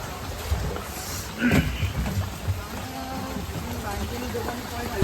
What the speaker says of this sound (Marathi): हे गब्बस पाऊस लय चालू आहे आधीच